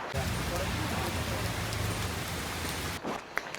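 Steady heavy monsoon rain pouring down close by at Naini Lake, a dense hiss with patter on surfaces, then it briefly drops near the end and a few sharp drips stand out.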